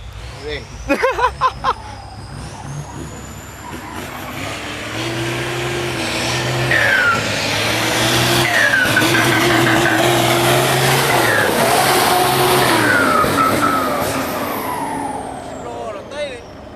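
A turbocharged Ford 8210 tractor at a tractor dealer revs up loudly and close, its engine note rising and holding strong for several seconds with a sweeping turbo whine, while someone talks over it.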